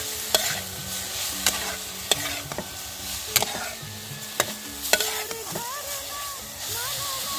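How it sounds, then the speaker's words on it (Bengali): Grated carrots stirred and fried in oil in a kadai: a steady sizzle with a regular series of sharp spoon knocks against the metal, and a faint voice briefly audible near the end. "ভালোভাবে নেড়ে চেড়ে আমি ভেজে নেব।"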